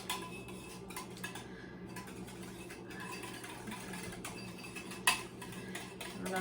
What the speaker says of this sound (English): I'm going to whisk that up.